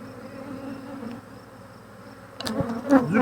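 Honeybees hum as a low, continuous drone around an open Flow Hive being inspected, with brief handling clatter near the end.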